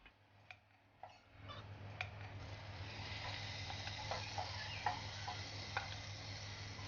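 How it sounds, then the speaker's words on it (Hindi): Prawn curry hits hot oil in a cooking pot and settles into a soft, continuous sizzle, preceded by a few light clinks and stirring taps, faint and without talk. "इसमें ऑयल निकाल लेंगे और अब हम इसमें अपनी करी शामिल करेंगे।"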